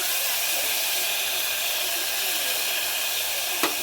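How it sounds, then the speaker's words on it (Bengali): Lentils dropped into hot oil for a dhaba-style egg tadka: a loud, steady sizzling hiss fills the whole stretch, close and continuous, with a brief sharper crackle near the end. "তেলটা গরম হয়ে গেছে, আমি ওর মধ্যে তড়কার ডালগুলো সব দিয়ে দেবো।"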